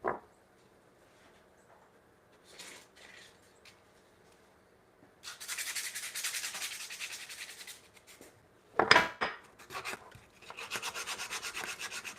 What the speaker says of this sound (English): So we're going to sand these a little bit.